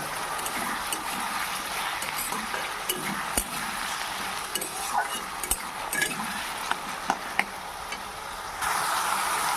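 Tomato puree stirred into vegetables in a pan for a Bengali pabda fish curry, a steady scraping and soft sizzle with occasional sharp clinks of a spoon against the metal rim, close and fairly quiet throughout.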